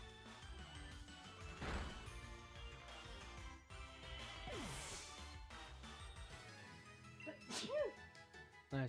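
A single sharp sneeze bursts out near the start, loud and close, amid an ongoing bed of game music and room sound in a dusty indoor space during a Pokémon Shield shiny-hunting stream.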